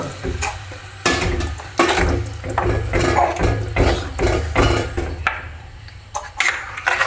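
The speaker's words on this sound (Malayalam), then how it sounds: "നമുക്ക് പതുക്കെ ഒന്ന് ഇളക്കി കൊടുക്കുക." A spoon stirs curd into Kurukku Kaalan in a cooking pot, giving soft scraping and knocking sounds in uneven strokes at close range. A low hum runs underneath, and no one speaks.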